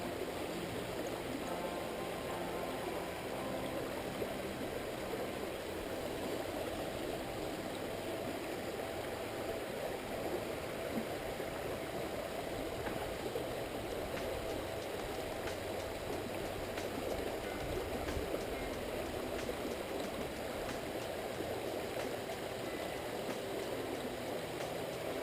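A creek flows steadily in a continuous even rush of water, close and moderately loud, with no voices.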